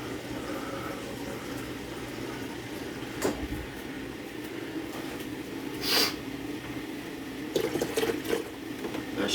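Water is poured into a Keurig coffee maker at home, a quiet continuous trickle with a few soft knocks and splashes in an otherwise still room.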